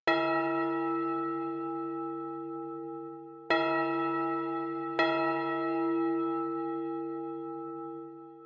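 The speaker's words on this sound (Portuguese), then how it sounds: "Vou botar até um som de sino aqui." A large bell rings three times, each strike clear and resonant with a long, slowly fading hum; the second and third strikes come closer together.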